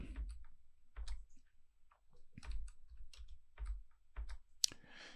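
Computer keyboard typing close up in a quiet room, a few short bursts of key clicks separated by pauses, ending with a sharper single press of the enter key.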